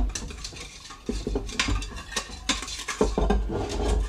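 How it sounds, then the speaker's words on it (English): A whisk scraping and clinking against a metal pot of raw milk, irregular rapid taps and rattles with a low background hum, close and fairly quiet, no talking. "I'm done whisking"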